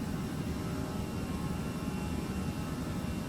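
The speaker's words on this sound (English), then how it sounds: "now put our engines in climb thrust, like so." Aerosoft Airbus A320 jet engines at climb thrust in a flight simulator, a steady, loud, broadband roar with a low rumble, continuous and without voices.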